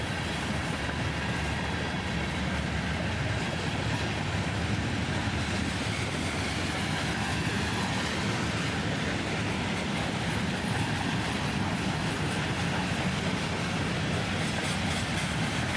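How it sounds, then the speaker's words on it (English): A freight train led by an SD40-DC locomotive, with an EMD SD40-2 trailing, rolls past in a steady dense rumble and roar of wheels and cars, loud and unbroken throughout. "SD40-DC leads this one."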